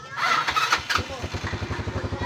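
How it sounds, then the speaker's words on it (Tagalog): A motorcycle engine cranks and catches, then settles into a quick, even putter of idling pulses, nearby and moderately loud. "umandar agad ang motor."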